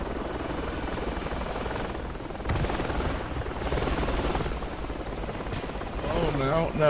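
A video game helicopter drones steadily with a chopping rotor buzz during an urban battle, loud and continuous, as players talk over it; a rising whine near the end.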